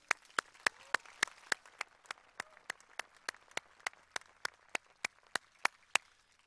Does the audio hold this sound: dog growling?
no